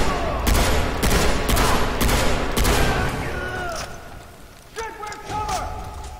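Gunfire in the video game Far Cry 3: loud, rapid bursts of shots packed into the first three seconds, then quieter game effects and tonal sounds after a short lull.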